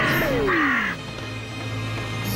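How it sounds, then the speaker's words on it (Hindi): A cartoon crow gives a loud, drawn-out caw with a falling tone, followed by a steady low hum and a brief high chirp at the end. "अरे ये कौवा हमको ही खा जाएगा।"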